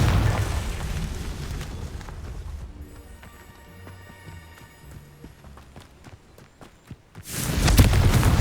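Confringo fire spell cast in Hogwarts Legacy, a fiery magical blast followed by ringing, sparkling tones and scattered impacts, ending in a loud rushing burst.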